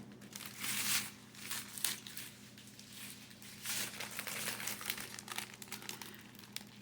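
Paper wrapping crumpled and crinkled while unboxing a Temu package in a kitchen, close-up rustling crackles in continuous uneven bursts for several seconds.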